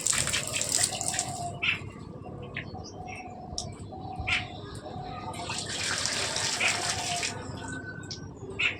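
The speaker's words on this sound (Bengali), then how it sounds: "দেখো আমি সব গাছগুলিকে স্নান করিয়ে নিচ্ছি।" Water splashes steadily over a collection of garden plants as they are given a gentle all-over bath, a continuous spray-like hiss with brief breaks, joined by occasional bird chirps and a voice speaking at times.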